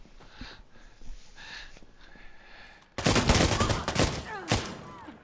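Gunfire in the shooter game Insurgency: Sandstorm: quiet background ambience with faint distant shots, then from the middle a loud, dense burst of rapid automatic fire with overlapping shots continuing to the end.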